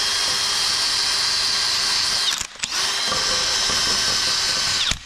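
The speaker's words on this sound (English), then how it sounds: "I've got a drill and a wire brush attachment on the end." A power drill fitted with a wire brush attachment scrubs a rusted bolt on a 2012 VW Caddy during rear anti-roll bar bush work, a steady loud whir with a brief dip midway before it resumes.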